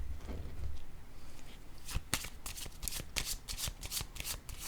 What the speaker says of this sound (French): J'ai le goût de piger une autre carte ici.